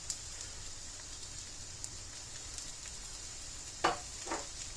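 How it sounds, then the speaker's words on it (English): Soy and oyster sauce are stirred into a shrimp stir fry in a hot pan, giving a faint, steady sizzle with a couple of brief stirring scrapes near the end and no talking. "Got some soy sauce in there. Mix that in a little bit."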